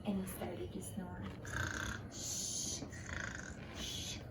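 A storyteller at a children's circle time imitates a sleeping giant snoring with the voice, giving several drawn-out, rasping snore breaths in a steady rhythm, close and moderately loud.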